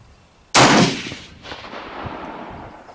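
A single loud, close rifle shot from a Springfield 1903A4 firing .30-06 at an outdoor range, with a sharp crack and a booming echo that rolls away over the next two seconds.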